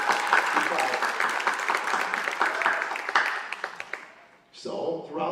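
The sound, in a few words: round of applause at graduation ceremony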